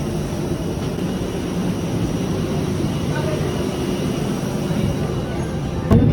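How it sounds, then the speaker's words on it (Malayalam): An airliner on an international flight to the Maldives taxis toward the runway. From inside the cabin, its engines make a steady, broad rumbling hum, while voices speak quietly underneath. "അങ്ങനെ നമ്മളെ ഫ്ലൈറ്റ് റൺവേയിലേക്ക് മൂവ് ചെയ്തു."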